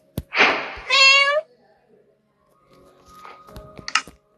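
A cat in the Minecraft video game gives a loud drawn-out meow after a breathy hiss-like sound near the start, then fainter game noises follow.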